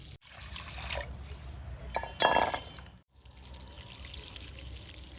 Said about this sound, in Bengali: এইভাবে দু থেকে তিনবার ভালোভাবে ধুয়ে নেব জল পাল্টে পাল্টে